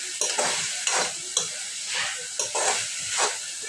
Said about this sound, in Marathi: अजून एक मिनिटवर परतून घेऊ